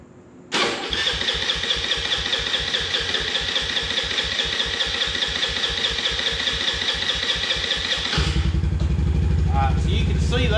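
An Eaton Viper 70 small engine that won't run properly struggles to start, then chugs in a rapid, even, loud putter for about eight seconds before its tone drops into a rougher, lower rhythm.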